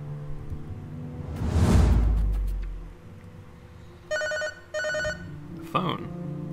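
A telephone rings in the video game Lorelai, sounding as two loud, close electronic bell bursts after a low whooshing swell, followed by a short tonal blip at the end.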